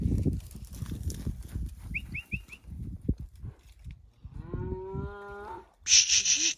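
Cattle lowing out on a desert range, several drawn-out moos at moderate distance rising over wind and rustle, with a higher, brighter call near the end and no talking.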